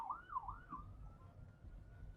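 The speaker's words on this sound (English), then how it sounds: "Uh-oh. Ambulance." An ambulance siren wails, its pitch sweeping up and down a few times before holding a steadier tone, moderately distant behind low road rumble heard from inside a car.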